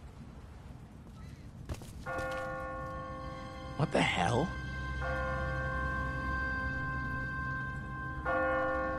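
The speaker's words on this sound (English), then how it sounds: "What kind of church bell goes off at 20 past the hour?" An automatic church bell rings repeatedly in The Walking Dead video game, sounding clear sustained tolls with short gaps between them. A voice briefly exclaims once over the ringing.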